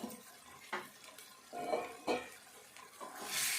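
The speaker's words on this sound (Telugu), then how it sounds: "వంకాయ ముక్కలు వేసుకొని కలుపుకోవాలి" Eggplant pieces are stirred with spinach in a pan, giving soft, intermittent scrapes and clinks of a spatula against the pan, quiet and close, with a brighter hiss rising at the end.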